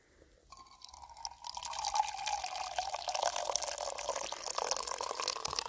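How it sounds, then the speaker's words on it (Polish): Hot water poured from a thermos into a pot for tea at an outdoor picnic, a quiet trickle that swells into a steady, bubbling pour lasting several seconds, with no talk. "Tu mam ciepłą wodę w termosie, poczekajcie. O, to zalewamy."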